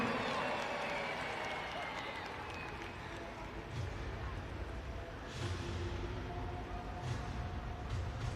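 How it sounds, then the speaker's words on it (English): An arena crowd at a Monster Jam event in Salt Lake City applauds and cheers for the winner, a sustained wash of clapping with a loud announcer's voice over it. "Big round of applause for our big winner."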